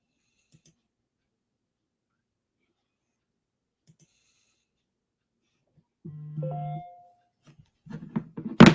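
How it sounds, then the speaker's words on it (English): A mobile phone gives a short notification tone, a brief two-step electronic chime after long near-silence, followed by faint rustling and handling noises. "My phone's going off."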